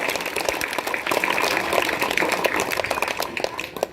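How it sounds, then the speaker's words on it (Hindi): Crowd of students and guests clapping at a school graduation ceremony in a middle school, a steady, dense round of applause lasting several seconds at close range. "अब जोरदार ताली चाहिए सन्नी कुमार के लिए"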